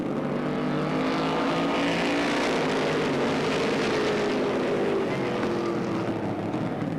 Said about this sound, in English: Jean-Paul Sear pulling up in that outside position as they come in the main straightaway to complete lap 1.